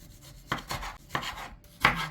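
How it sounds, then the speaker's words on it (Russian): A knife slices through fresh tomatoes on a cutting board, three distinct cuts spaced about half a second apart, close and fairly loud. "Далее свежие помидоры. Нарезаем полукольцами либо кольцами."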